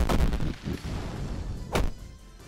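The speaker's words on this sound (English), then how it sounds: "A small volley of magic missiles." A volley of magic missiles cast in a video game, a few sharp bursting impacts, a cluster at the start and another loud hit near the end, fairly close.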